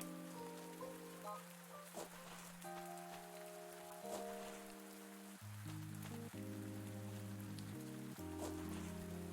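Rain falling in a farming video game, a soft, steady patter under sustained musical tones, faint and continuous throughout.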